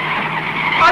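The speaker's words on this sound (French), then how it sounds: "Il contrôle plus sa voiture!" A car skids out of control in a 1975 action film, its tires squealing in a harsh, sustained screech over engine noise.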